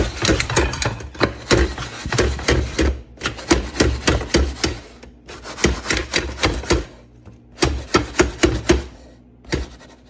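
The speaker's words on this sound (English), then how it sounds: "we're gonna cut this into slices like this" A knife slices food on a wooden cutting board in a home kitchen, giving rapid, rhythmic chopping strokes in several close, loud bursts separated by short pauses.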